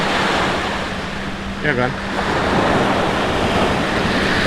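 Ocean surf rolls onto a brown-sand beach as a continuous roar, blended with wind buffeting the microphone. A voice speaks briefly near the middle.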